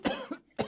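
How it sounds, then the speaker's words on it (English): A man coughs twice in quick succession, close to the microphone, with a brief pause between the harsh bursts and no speech around them. "here comes a cough"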